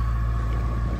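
Sailboat motoring under engine power on the Aegean off Turkey and Greece after the wind drops; a steady, close, droning engine hum with a constant low throb and no talking.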